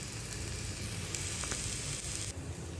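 Garlic frying in a pan for potato spring rolls, a close, even sizzle throughout with a couple of faint stirring clicks.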